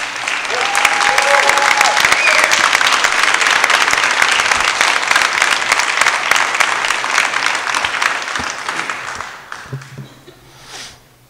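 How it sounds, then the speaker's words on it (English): A school board meeting audience gives a sustained round of applause for students, loud and steady for about nine seconds before tapering off. "I'd like the audience to give the students a round of applause for braving this."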